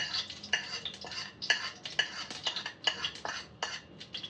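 Panch phoron spices crackle with chili in hot oil, with quick bright pops and spoon scrapes against the pan in a busy, uneven rhythm, close and fairly quiet, with no talk.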